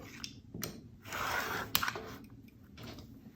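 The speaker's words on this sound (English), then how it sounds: "now I'm gonna cut again." Scissors snip through quilt fabric for a holiday party quilt block, a few short crisp cuts with a longer rasping slice in the middle, close and moderately loud, no talking.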